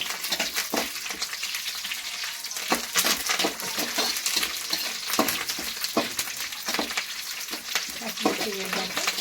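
Green chilies frying in hot oil for Andhra-style Gobi Manchurian, with constant loud sizzling broken by frequent crackling spatters and stirring scrapes, close and with no speech.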